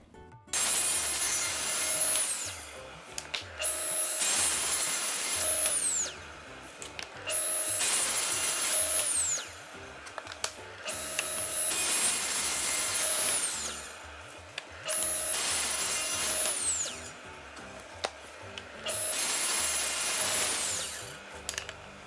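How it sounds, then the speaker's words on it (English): A table saw with a crosscut sled cuts pieces of wood for an end-grain cutting board. There are about five loud, sustained cuts at a regular pace, and the blade whines and spins down between them. No one speaks. "You'll notice I stopped at the end of each cut and let the blade come to a full stop as I remove the piece to make sure it didn't bind."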